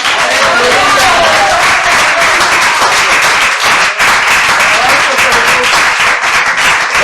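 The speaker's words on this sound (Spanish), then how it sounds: "Le demos aplausos para Jesús." A church congregation gives loud, sustained applause at a Sunday service, a thick, close roar of many clapping hands with voices mixed in, continuing with only a brief dip.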